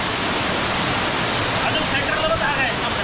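The waterfall on Varandha Ghat gives a loud, unbroken roar of falling water, a dense, constant rush with no pauses.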